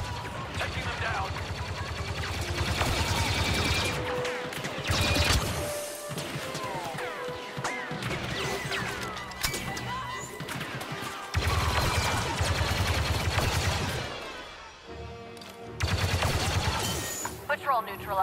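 Blaster fire in Star Wars Battlefront 2, loud rapid volleys of shots and crashing impacts in several bursts with short pauses, layered over game effects and occasional voices.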